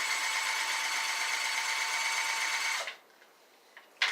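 An electric drill powering a homemade kayak paddle trolling motor whirs with a steady, sewing-machine-like buzz for nearly three seconds, then cuts out, leaving near silence broken by a couple of faint clicks.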